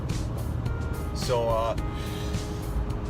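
Steady road rumble inside a pickup truck cruising on a highway on a very hot day, with someone talking over it and a navigation voice briefly giving directions.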